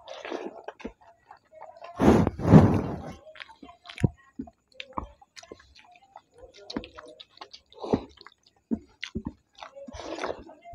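Rice mixed with dal, mashed potato, potato-poppy-seed curry and fried potato is eaten by hand, with scattered soft chewing, lip smacks and small clicks close by, including a louder burst of handling noise early on and occasional quiet talk.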